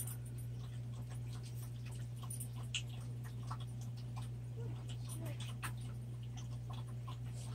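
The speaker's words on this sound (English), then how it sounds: "The dogs always decide they're thirsty when I'm trying to video." Dogs drink water from a bowl indoors, making a soft, quick, rhythmic lapping with occasional panting, low and close over a steady background hum.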